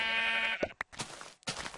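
Sheep bleating in Minecraft, a few short wavering bleats in quick succession, close and clear against a quiet game background.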